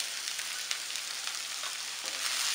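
Chopped carrots, beans and cabbage sauté in a pan for egg fried rice, making a soft, steady hiss of frying with a few faint stirring ticks.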